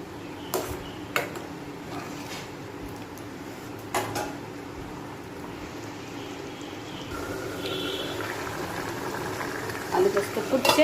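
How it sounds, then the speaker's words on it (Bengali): Aloo posto, potatoes with poppy seeds, boiling in a pan, heard as a low steady bubbling with a few clinks of utensils against the pan and a voice speaking over it. "আলু পোস্ত ফুটছে"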